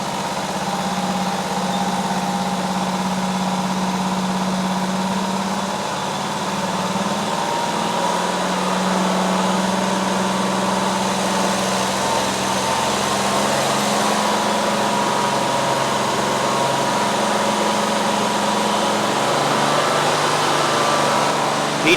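An abandoned zero-turn mower's engine runs continuously after restarting, a close, steady mid-pitched drone with slight wavering in speed and no talk.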